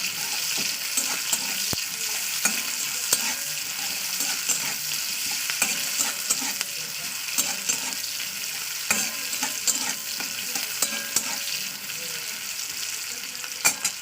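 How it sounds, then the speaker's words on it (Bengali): A whole onion fries in oil with bay leaf, cinnamon and dried red chilies, a dense, continuous close sizzle with scattered crackles and spatula scrapes. No one speaks. "দিয়ে দেবো একটা গোটা পেঁয়াজ পেঁয়াজটাকে একটু লাগালি করে নিতে হবে"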